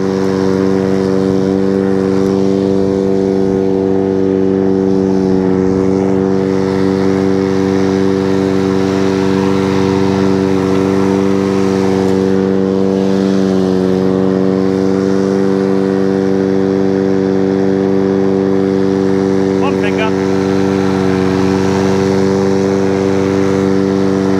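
A Hayter lawnmower engine runs continuously with a steady, loud buzzing drone and faint variations as it is tested driving, close by with no talk.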